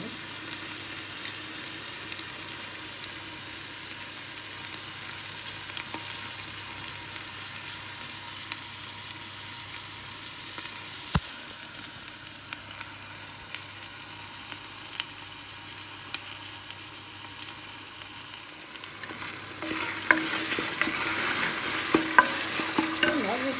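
Eggplant sautéing in olive oil in a pan for a Turkish olive-oil eggplant dish, a steady close sizzle with occasional spoon scrapes that grows louder and brighter near the end, no talking.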